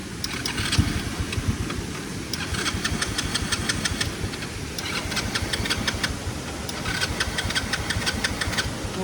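An old vehicle engine cranks repeatedly without catching, a rhythmic, labouring churn that runs for several seconds and does not fire up.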